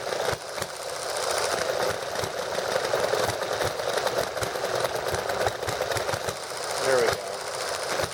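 Small model engine running on nitromethane fuel, a fast rattling buzz held close and loud for the whole stretch, with a brief voice over it.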